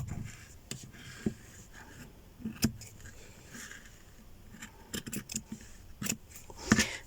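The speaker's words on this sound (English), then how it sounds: "and then I can follow it with the scissors." Scissors snipping through paper in short, sharp, irregular cuts along a pre-made indent, with quiet pauses between them, close by.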